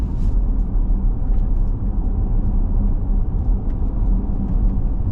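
A 2024 Dodge Durango GT with a naturally aspirated engine and 8-speed automatic drives over an uneven road, giving a steady, loud low rumble of road and engine noise throughout, with no talking.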